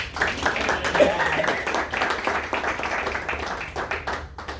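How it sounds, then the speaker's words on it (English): A Toastmasters audience breaks into sustained applause, many hands clapping steadily at close range for several seconds. "Let's give her a round of applause."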